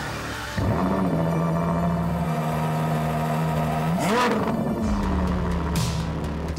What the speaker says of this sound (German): Ein V12 Saugermotor mit 800 PS, 3 Sekunden von 0 auf 100